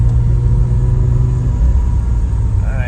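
A Porsche Cayman 987 cruising on a public road, a loud continuous engine drone and road rumble from inside the cabin, steady throughout with a brief rising tone near the end.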